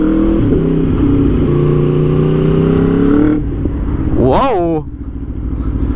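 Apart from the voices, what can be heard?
Aprilia RSV4 motorcycle engine revving on street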